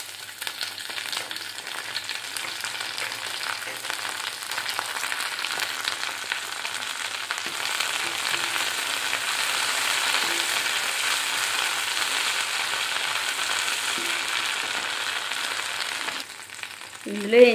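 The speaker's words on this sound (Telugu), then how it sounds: "ఇప్పుడు ఇందులో కరివేపాకు వేద్దాము." Curry leaves crackle and sizzle in hot oil left from frying potatoes, a continuous close hiss that swells midway, then ends with a sharp clatter.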